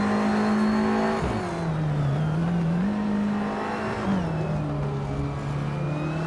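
A turbocharged 2015 Subaru Impreza STI WRX race car engine at a race start: loud, continuous drone whose pitch dips and climbs as it shifts and accelerates, with no voices.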